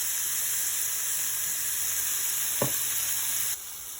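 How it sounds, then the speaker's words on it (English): Onions with cumin and Montreal steak spice sizzle steadily in a pan, a constant close frying hiss with one brief utensil tap near the end. "I want to caramelize the onions, a little darker than this."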